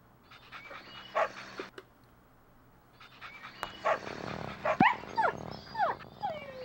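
Dog barking and whimpering in a miniature golf video game, short yelps and panting bursts over a soft background hum, moderately loud.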